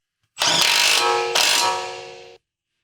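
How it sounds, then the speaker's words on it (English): An electric impact wrench with a 19mm deep socket runs two bursts on an outer tie rod ball joint lock nut on a 2007-2013 Acura MDX, a loud rattling whir with a second hammering surge, about two seconds long with no talk. "Use a 19mm deep socket with an electric impact wrench to tighten the outer tie rod ball joint lock nut."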